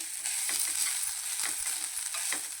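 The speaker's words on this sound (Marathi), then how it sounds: "तर आता आपण व्यवस्थित थोडंसं तुपावर भाजून घ्यायचं" Grated coconut, two bowls' worth, roasting in ghee in a pan for ukadiche modak filling, with a steady soft sizzle and intermittent scraping stirs of the spoon; no talking.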